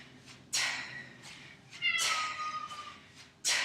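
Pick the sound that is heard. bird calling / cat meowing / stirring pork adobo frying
cat meowing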